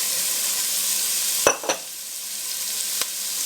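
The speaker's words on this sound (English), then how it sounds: "I'm going to go ahead and start my aromatics, my onions" Onions and celery hit a hot pan, giving a steady bright sizzle with a couple of sharp clatters as the vegetables are stirred.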